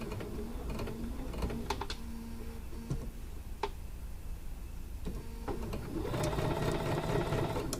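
A sewing machine stitches quilt blocks together for a quilt top, its rapid mechanical ticking running steadily at moderate volume and growing busier toward the end.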